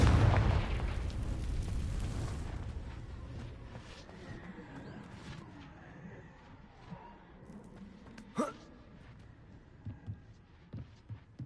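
A Confringo blasting spell explodes in Hogwarts Legacy: a loud, booming burst at the start rumbles and fades over several seconds, followed by scattered smaller pops and one sharp crack near the end.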